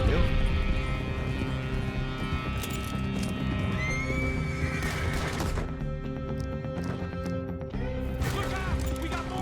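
In the Red Dead Redemption video game, a horse whinnies loudly and hooves clip-clop at a gallop amid a chaotic chase with gunfire, music and voices talking over the action.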